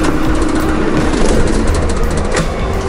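An Iveco Crossway bus engine running at idle, a loud continuous low rumble with rattling broadband noise and steady level, no voices.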